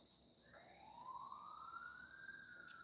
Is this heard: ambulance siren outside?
yes